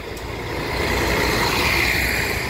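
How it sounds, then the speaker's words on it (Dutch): City bus line 20 passes through Hulst town centre, a loud close engine roar with broadband road noise that swells and holds steady throughout. "Hier even de bus 20 die naar Hoes treinstation gaat."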